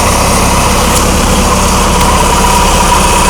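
A John Deere 1042 combine harvester engine running steadily after being started, a loud, even mechanical drone with constant vibration throughout and no talking.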